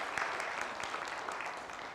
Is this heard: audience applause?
yes